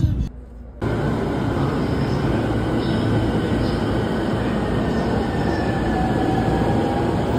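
Steady rumbling and rolling noise from inside a moving commuter train in Japan headed toward Tokyo Disneyland, with faint squeals and clatter over a constant low roar; muted talk is heard briefly at the start.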